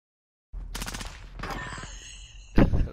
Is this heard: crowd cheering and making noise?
no